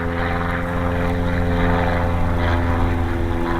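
Model helicopter flying, a steady loud buzzing whine with strong even harmonics from its motor and rotor, continuous and unbroken, with no talk.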